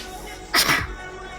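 A single sharp human sneeze, close and fairly loud, bursting out briefly in an otherwise quiet room, turned slightly away from a microphone during a livestream.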